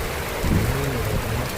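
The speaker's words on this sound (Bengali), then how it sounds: "আজ সারাদিন শুধু বৃষ্টি ছিল।" Rain falls steadily and densely, a close, continuous wash of drops with no voices.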